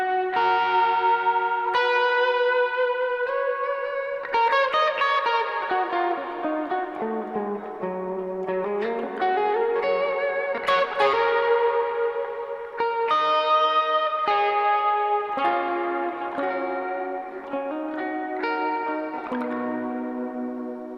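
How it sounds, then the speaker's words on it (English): An electric guitar fitted with a Guyker pickup plays melodic lines with big reverb and vibrato, notes ringing and overlapping in a washy, shimmering tail; loud and continuous with no talking. "Bigger reverb and some vibrato."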